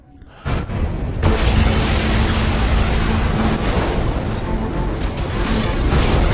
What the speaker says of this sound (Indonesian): tiba-tiba boom, terjadilah ledakan